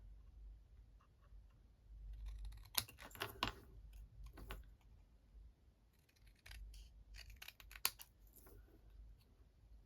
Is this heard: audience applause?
no